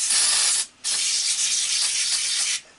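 Aerosol spray hisses onto a rag for starting a Kohler engine on an off-road three-wheel hauler, two steady bursts with a short pause between, loud and close with no talking.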